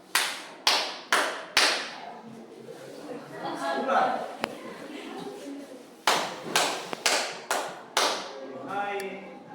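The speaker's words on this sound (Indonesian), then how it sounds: "Coba tepuk tangan 5 kali." Classroom of students clapping in unison, five sharp, evenly spaced claps, then a pause with voices talking, then another set of five loud group claps.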